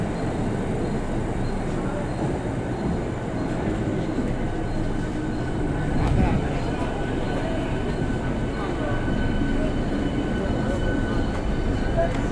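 A commuter train on a Mumbai-area railway line rumbles steadily, a continuous mechanical roar with rising intensity around the middle, heard over the low murmur of a crowded platform.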